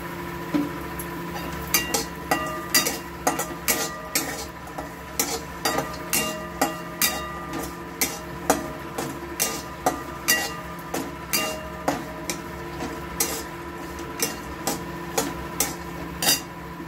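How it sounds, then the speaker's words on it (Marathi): Dried coconut roasts with a little oil in a pan, a utensil striking and scraping the metal in steady rhythmic clinks roughly twice a second over a faint background hiss. "आता खोबरं बघा हे टाकलंय, खोबऱ्याला मी जरासं तेल टाकून घ्यायचं"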